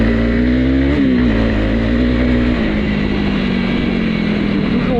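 A 2025 Honda CRF300L trail motorcycle engine revs loud and close off-road, pitch dipping and settling into a steady drone with a brief throttle blip early on.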